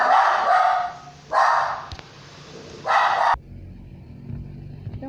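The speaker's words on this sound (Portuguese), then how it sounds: "quando entra alguém aqui na minha sala, a cachorrinha fica desesperada" A small dog barks in a quiet room as someone comes in, three loud close bursts of yapping separated by short pauses, then falling silent.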